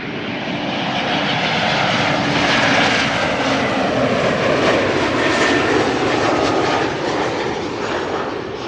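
Retro Lux airliner landing at Amsterdam Schiphol, a loud sustained jet roar swelling and easing slightly over several seconds, heard alone with no talk.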